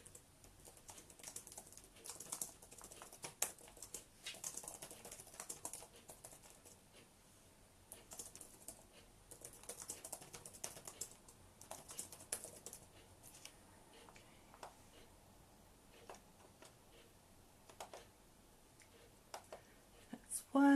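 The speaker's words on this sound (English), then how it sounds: "Let's type this in" Typing on a computer keyboard, quiet and close, with irregular bursts of rapid clicking keystrokes separated by short pauses over about twenty seconds.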